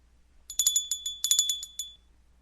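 A small bell rings in a quick run of bright, clinking strokes in two bursts, close and fairly loud, heard alone with no talking, in a Macbeth audiobook.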